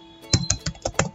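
Close, crisp keystrokes on a computer keyboard while entering Python code, about six quick taps in a brisk burst, loud and alone without talk.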